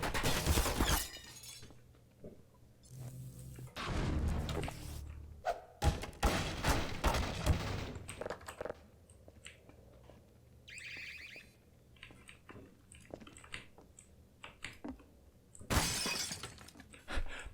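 Glass shatters loudly in the video game Detached, with several sharp crashes and thuds spread across the scene, separated by quieter stretches of in-game ambience.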